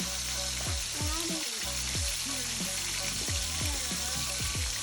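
Meat sears in a frying pan with a dense, loud, continuous sizzle and crackle that holds steady throughout.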